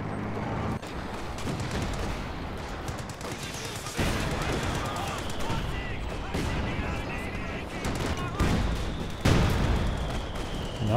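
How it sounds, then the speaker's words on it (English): An artillery barrage and gunfire in a Company of Heroes 2 four-versus-four battle, heard as a dense, continuous roar of shell blasts and rattling gunfire with sharp louder impacts, under a commentator's voice. "Now there's this barrage."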